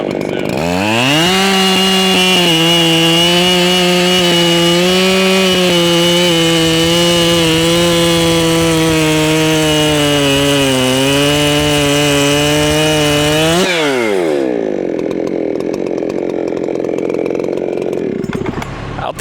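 A ported Sugihara chainsaw runs hard and close while cutting firewood, a loud steady high-revving buzz that holds for about fourteen seconds, then drops to a lower, quieter idle.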